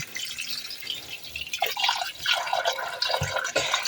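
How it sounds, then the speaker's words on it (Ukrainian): Cold water poured from a tap over pork in a kitchen to cover the meat: a steady splashing, gurgling stream, close and moderately loud, with no talk. "А далі м'ясо необхідно залити холодною водою повністю"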